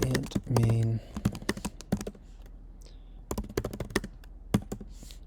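Typing on a computer keyboard, close, crisp clicky keystrokes in uneven bursts with short pauses, and a brief hum of voice near the start.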